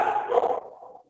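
A dog gives a single short, close bark that trails off into a brief whine and then falls silent.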